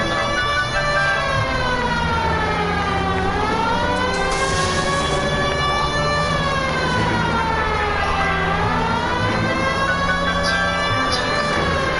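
A police siren wails in the video game LA Noire, loud and close, rising and falling in long sweeping cycles over a constant engine rumble.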